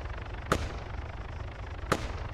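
Gunfire in the Arma 3 video game, with two sharp, isolated shots about a second and a half apart over a low background rumble.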